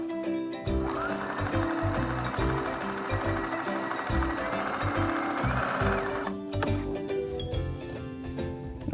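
A sewing machine runs steadily for about six seconds, stitching thin interfaced fabric on a zipper pouch. It makes a dense, rapid mechanical whir, then stops, and a few light clicks of handling follow.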